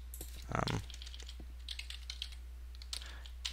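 Keys clack on a computer keyboard in quick, uneven bursts. One louder cluster of strokes comes early, then lighter scattered taps follow over a low steady hum.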